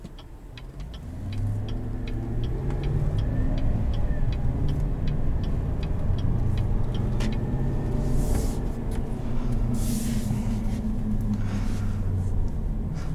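Road traffic flows past a 2021 Chevrolet Silverado 1500 LT Trailboss, a steady car engine hum with mild revving continuing throughout, with faint ticking and a couple of brief louder whooshes of passing vehicles.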